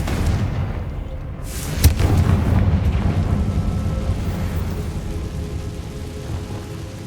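A Confringo fire spell bursts in the video game Hogwarts Legacy with one sharp boom, followed by a long rolling rumble over constant, rain-like ambient noise.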